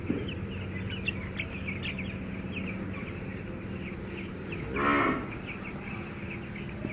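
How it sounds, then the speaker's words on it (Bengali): A 14-day-old cockerel chick of a golden-feathered breed, weighing 600 to 700 grams, gives one short, strained call near the end, preceded by faint chirps over a constant low farmyard hum. "একটা মোরগের বাচ্চা"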